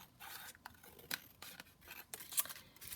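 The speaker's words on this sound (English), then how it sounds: "I'll trim it across the bottom" Scissors trim a paper tab off a handmade junk journal booklet, several quiet crisp snips and slicing strokes spaced irregularly, close up with no talking.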